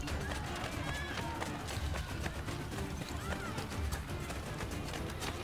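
Horse galloping in Assassin's Creed Brotherhood, hooves drumming in a fast, steady rhythm beneath a busy game mix with crowd noise, someone talking over it.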